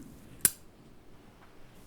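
A single sharp snip of scissors cutting through a soft flower stem, a brief crisp click close by in an otherwise quiet room.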